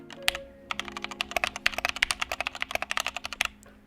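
A mechanical keyboard with unlubed switches is typed on quickly and up close, a dense run of sharp, clacky keystrokes with a faint steady hum underneath.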